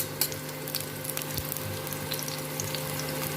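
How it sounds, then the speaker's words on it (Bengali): Garlic cloves fry in oil with a soft, continuous sizzling hiss and small bubbling pops, close and fairly quiet, with a low steady hum beneath. "রসুনগুলোকে ভালো করে ভেজে নেওয়ার পর"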